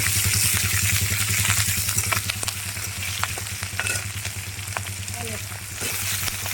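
Slit green chillies sizzle and crackle in a hot pan as a spatula scrapes and stirs them, close and continuous, with a low hum underneath and scattered pops.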